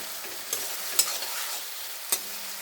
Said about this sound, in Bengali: আর এখানে মশলাটা কষিয়ে নিচ্ছি আলুর তরকারি করার জন্য